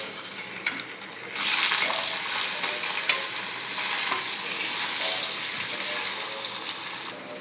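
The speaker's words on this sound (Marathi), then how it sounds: "पहिले पनीर तळून घेऊ आणि त्याच्यातच हे कांदे टमाटे वगैरे हे तळून घेणार आहे।" Paneer, onions and tomatoes fry in hot oil in a kadhai, giving a steady sizzle with scraping stirring sounds that swell as the ingredients go in, close and moderately loud.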